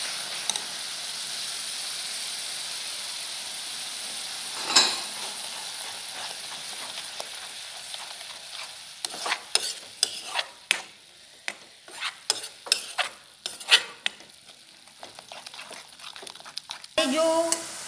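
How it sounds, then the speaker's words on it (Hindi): Grated tomatoes hit hot oil in a pan for a Hindi-style stuffed bottle gourd dish, giving a steady sizzling hiss, then a run of sharp stirring clatters and scrapes toward the end, with no one talking. "अब हम इसमें मिलाएंगे अपने कद्दूकस किए हुए टमाटर, ग्रेटेड"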